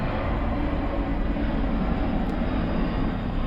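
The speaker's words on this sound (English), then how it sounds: "That's a loud plane." An airplane passes overhead as a loud, steady broadband roar that fills the whole stretch without fading, with no talk over it.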